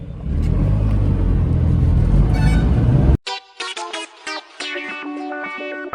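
A Tata Nano small hatchback revs hard as it accelerates toward 100 km/h with the air conditioning off, a loud rough engine drone for about three seconds before it cuts abruptly into bright, distorted electronic tones.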